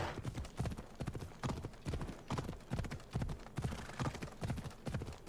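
Horse hooves clip-clopping at a slow, careful walk down a slope in Assassin's Creed Odyssey, a steady regular rhythm of close, soft thuds with no voices over it.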